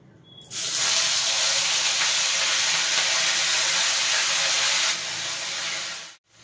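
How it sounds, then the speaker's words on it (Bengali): Ginger paste hits a hot wok and erupts into a loud, steady hiss of sizzling that holds for about four seconds, eases slightly, then cuts off abruptly near the end. "এবার কড়াইতে দেব আদা বাটা"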